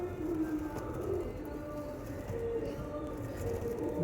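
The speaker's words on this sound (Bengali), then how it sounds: "পিওর মঙ্গলাগিরি লাইনের পায়রা আছে, লাল সিরার মধ্যে আছে, একদম সুপার কোয়ালিটি।" Pure Mangalagiri line pigeons, a red-headed pair, coo in soft repeated low calls that carry continuously and fairly close, with light background rustle.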